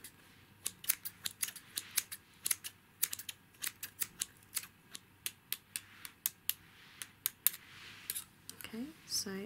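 Quick, crisp metallic snips repeat in short bursts through the clip, close and fairly quiet, like scissors cutting hair.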